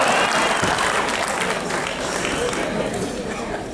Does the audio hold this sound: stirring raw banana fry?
no